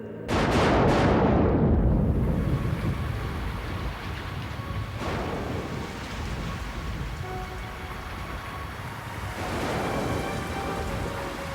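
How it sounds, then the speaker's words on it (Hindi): Steady rain pours down, loud and continuous, with a heavy thunder-like rumble at the start and another swell near the end. "यहाँ पर आ जाओ, यहाँ पर बारिश से बच सकते हैं।"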